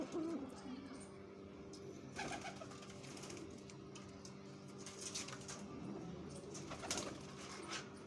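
White pearl-patterned pigeons coo softly at a distance amid steady background noise, with low rolling calls repeating through the scene.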